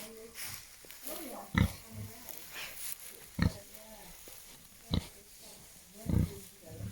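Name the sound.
pig grunting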